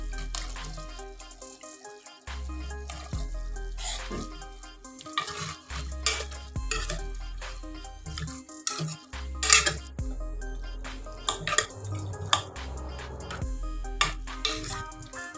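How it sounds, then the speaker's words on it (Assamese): A pot of local chicken curry is stirred and potato pieces are dropped in: intermittent metallic clinks and scrapes of a spoon against the pot, with soft wet plops and splashes between quieter pauses. "অকণমান লৰাই দিছোঁ আৰু এতিয়া মই ইয়াতে দি দিম এই আলু কেইটুকুৰা।"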